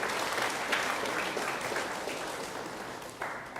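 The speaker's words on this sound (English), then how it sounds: "Let's give San Fernando a round of applause, please" Steady crowd applause for San Fernando at the launch of NGC Sanfest 2014 in Trinidad and Tobago, dense and sustained clapping from many people, moderately loud throughout.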